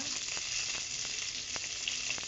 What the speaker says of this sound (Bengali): 1 চামচ আদা বাটা, ধনে গুঁড়ো, লঙ্কা গুঁড়ো দিয়ে মশলাটা কষে নেব।